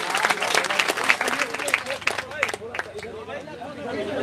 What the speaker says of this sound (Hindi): उनके नाम पर भी एक बार जोरदार ताली बजा दीजिए आप लोग